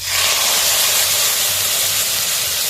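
Spice-washing water is poured into a hot pan of fried lentil dumplings with leftover mustard and cumin for a bitter gourd dish, giving a loud, steady, close hiss of steam and sizzling that runs unbroken throughout.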